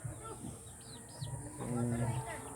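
Backyard chickens cluck and coo softly near a nesting area, a few short calls mixed with a person talking over a low background hum.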